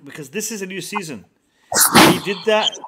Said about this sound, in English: Bless you. Who just sneezed?